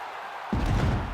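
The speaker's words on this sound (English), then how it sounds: "the crowd voicing its appreciation after that round" An arena crowd at a UFC fight swells suddenly into loud, steady applause and cheering at the end of a round, a dense wash of noise that holds until the end.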